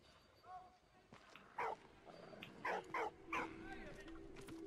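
A dog in the World War I video game Valiant Hearts gives short barks and whimpers, several quick yips in a row over quiet game ambience.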